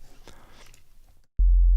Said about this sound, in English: just a clean sine wave